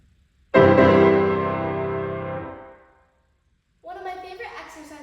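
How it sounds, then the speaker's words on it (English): Loud two-handed piano chord struck once, close and ringing, decaying over about two seconds into silence, followed by a softer burst of faster notes at the end. "The piano has an especially loud volume, especially when playing chords with both hands like this."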